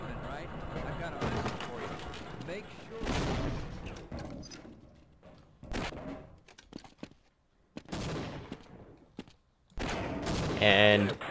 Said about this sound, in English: Now we just throw some grenades to manipulate RNG.